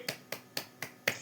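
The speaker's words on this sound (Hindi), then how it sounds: "ताली बजाओ जोर से" Claps or finger snaps in a church service come five times at an even pace, each one crisp and close, with no voices.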